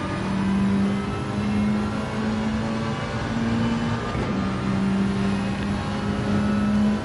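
Group 4 race cars in a European GT series video game race, their engines droning steadily and loudly up close with a sustained pitched hum and slight surges, continuous throughout, with no voices.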